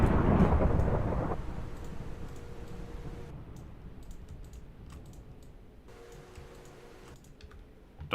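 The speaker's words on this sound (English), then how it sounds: "Oh, I heard a lightning strike nearby." Thunder from a lightning strike in the game Gregtech New Horizons rolls out as a loud rumble at the start and fades, followed by soft keyboard typing and mouse clicks in a quiet room.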